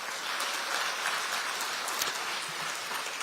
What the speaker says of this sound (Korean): 이분들께도 박수 한번 좀 보내주십시오.